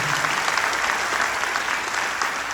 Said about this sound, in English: Let's give Coach Varas a round of applause.